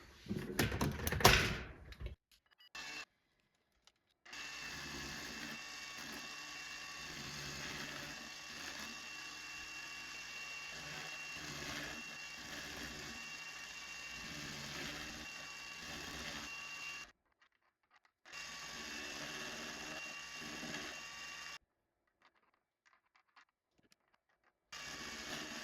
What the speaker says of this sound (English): I'll do it on the mini mill and then thread it inside.